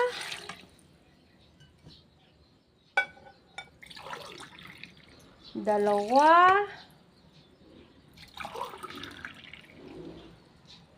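Water is poured from a glass into a cooking pot for boiling peeled bananas, a short gurgling pour in the middle, with scattered clinks and someone speaking before and after.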